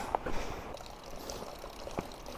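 Water pours and trickles from a natural drinking fountain beside a trekking path along a river in the Annapurna region of Nepal, a soft continuous splash heard close by without talk.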